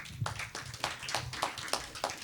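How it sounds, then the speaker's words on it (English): Rhythmic clapping from a congregation at a Sunday church service, steady beats roughly every third of a second, moderately close with a soft low hum beneath. "It's so odd for me to have clapping with prayer"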